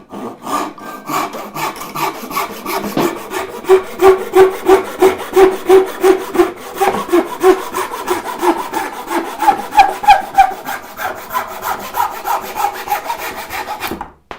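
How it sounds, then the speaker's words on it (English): A handsaw cuts through a piece of white oak in a workshop, the steady push-pull strokes rasping loud and close in an even rhythm for most of the span before stopping. "Don't need to cut it with a dovetail saw. Grab out this saw."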